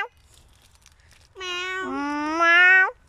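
A person imitates a cat's meow to a dog, giving one drawn-out, nasal mew with a rising then wavering pitch after near-silence, sounding close and clear.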